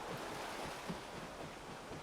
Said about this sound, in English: Hear the water splashing.